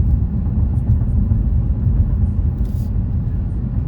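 Inside a moving 2021 Dodge Challenger R/T, a loud, steady low road and engine rumble fills the cabin without a break.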